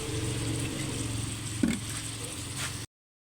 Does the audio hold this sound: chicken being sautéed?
yes